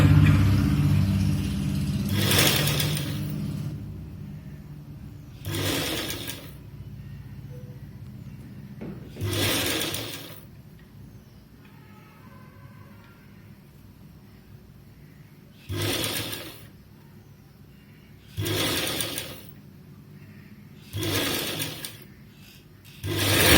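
A home sewing machine stitches the seam of a fabric face mask in several short bursts, each running a few seconds, separated by quiet pauses.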